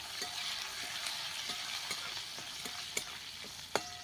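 Garlic and curry leaves sautéed in hot oil in a pan, a soft continuous sizzle with a few distinct scraping stirs and clicks of the spoon, close and fairly quiet, no talking.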